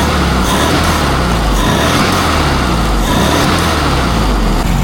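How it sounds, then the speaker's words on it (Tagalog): A Volkswagen Beetle engine, just after a choke adjustment, runs loud and close, holding a steady rough idle with some throttle revving and a dense low rumble throughout, no voices. "Yung takbo niya naging smooth na, parang hindi mamamatay, steady yung idle."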